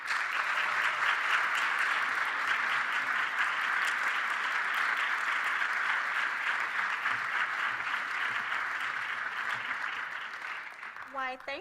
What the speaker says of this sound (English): Will you give a round of applause for Dr.